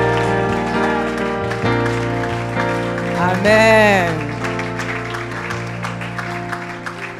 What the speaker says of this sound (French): sous vos acclamations pour le Seigneur